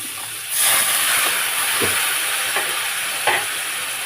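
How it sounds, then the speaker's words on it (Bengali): Water poured onto a spice paste of cumin, chili powder and tomato frying in a pan bursts into a loud steamy hiss. Scraping stirs follow, and the hiss settles into a steady sizzle close by. "মশলাটা কষার জন্য জল দিলাম"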